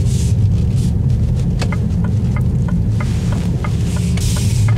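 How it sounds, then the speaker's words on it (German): Artificial engine sound of a Mini Cooper SE electric car: a low, steady synthetic rumble and hum droning continuously inside the cabin, with faint ticking clicks over it and no talking. "immer so ein künstliches Motorgeräusch"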